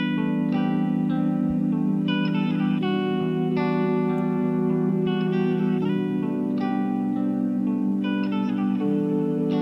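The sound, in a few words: Spitfire Audio guitar harmonics synth with sample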